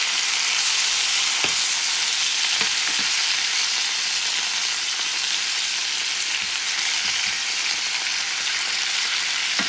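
Shrimp sandwich filling with tomatoes sautéing in a pan, a loud, dense, continuous sizzle with a few soft stirring knocks, close up.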